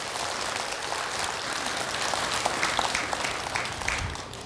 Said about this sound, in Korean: 맞은 박수 크게 치세요.